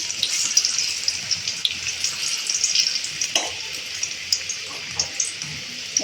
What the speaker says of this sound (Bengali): এখানে ভাজতে বসিয়ে দিলাম।